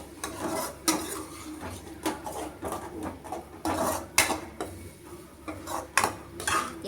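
Raw masala being sautéed and stirred in a cooking pan: a spoon scrapes and clinks against the metal in irregular strokes over a faint, soft sizzle, close up, with no talking.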